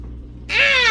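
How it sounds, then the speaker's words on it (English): A house cat lets out one loud, close meow, rising out of a quiet room mid-clip and holding to the end. "This cat is tortured by us."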